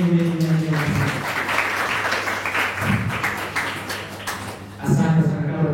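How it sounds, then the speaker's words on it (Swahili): Audience applause at a community gathering: a broad wash of clapping swells in the middle, bracketed by a voice speaking before and after. "Makofi mengi kwa Barakasi"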